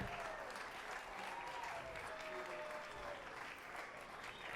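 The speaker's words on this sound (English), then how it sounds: "Big round of applause for the newlyweds." Wedding guests clap for the newlyweds at a reception, a continuous, fairly distant round of applause with faint crowd murmur beneath and no clear speech.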